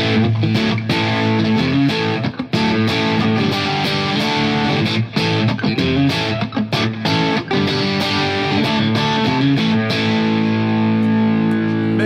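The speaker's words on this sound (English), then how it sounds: "Position two is not split. It's just the humbucker and the middle pickup." An electric guitar plays loud, heavily distorted chords and riffs with the humbucker and middle pickup selected together, a continuous dense tone with brief choppy breaks between strums.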